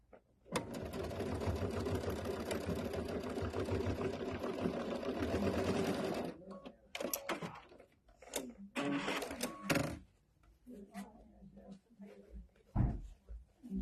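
A sewing machine stitches across the corner of a fabric belt bag, running loud and continuous for about six seconds, then breaking into short bursts and handling clatter as a person talks.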